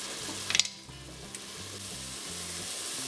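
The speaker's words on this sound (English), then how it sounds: "let it cook for like 3 minutes till onions start to turn light golden" Onions and curry leaves fry in an Instant Pot with a steady close sizzle, opening with a brief burst of sharp crackles and a few scattered pops before settling into an even hiss.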